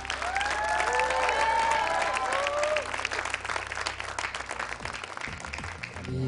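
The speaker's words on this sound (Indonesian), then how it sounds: "Tepuk tangan." Studio audience applause at a Qur'an recitation competition grand final, dense and continuous clapping with tonal melodic sounds layered over the first half, then continuing more raggedly.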